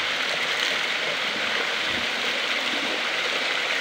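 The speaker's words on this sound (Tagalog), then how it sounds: "Ito po bukal." Water from a spring at Maria Makiling Falls flows in a steady, close rushing hiss with no breaks and no voices.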